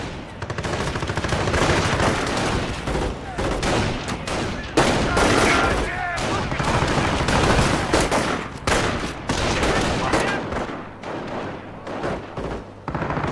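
A rifle squad in Company of Heroes comes under heavy fire, with dense, continuous rifle and machine-gun volleys crackling close by. Booms mix in, and a brief voice shouts over the din.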